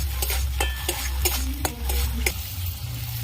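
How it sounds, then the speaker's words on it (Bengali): Tomato sauce frying in oil in a pan, a soft continuous sizzle broken by a series of sharp scraping clicks as a spoon or spatula stirs against the pan, close and fairly quiet. "সসটা হালকা করে ভেজে নেব, রংটা চেঞ্জ হওয়া পর্যন্ত।"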